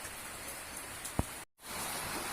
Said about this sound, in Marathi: सकाळपासून पाऊस चालू आहे, रात्रभरही पाऊस पडला